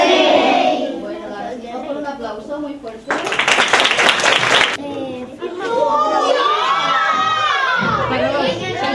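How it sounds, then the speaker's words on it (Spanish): Audience of young readers bursting into loud clapping and applause for a short stretch, surrounded by children's chatter and talk before and after. "Un aplauso muy fuerte"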